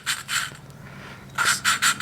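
Rough rhythmic rasping of valve lapping on a 2004 Honda CRF150F cylinder head, metal grinding against metal in back-and-forth strokes, short bursts with a quieter pause between, close up.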